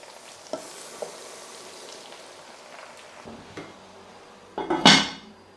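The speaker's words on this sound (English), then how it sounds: "The leeks can now go in, and these just need a couple of minutes to cook down" Sliced leeks cook down in a pan with a soft steady sizzle, a few light knocks of a utensil, then a louder burst of frying as they are stirred near the end.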